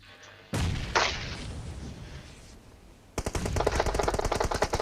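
Gunfire in PUBG Mobile aimed at a car: a heavy shot opens, another crack follows, then a sustained rapid automatic burst drives through the final seconds, loud and close, with no talking.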